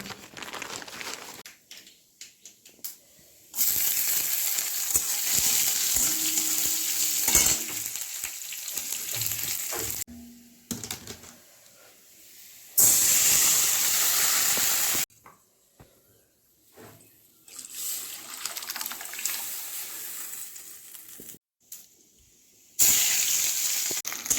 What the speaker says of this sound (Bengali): পাট শাকটা ফোড়ন দিয়ে দিলাম